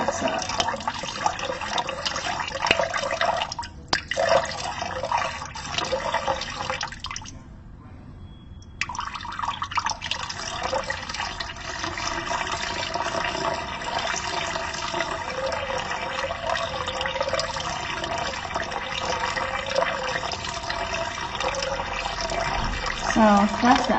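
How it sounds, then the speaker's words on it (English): Dechlorinated tap water poured slowly from a bucket onto a plate inside a 20-litre tank, a steady close trickling and splashing that runs almost the whole time, with one short break partway through. "So I've got here a bucket of water and dechlorinated from the tap, and I'm gonna aim it and pour it really,"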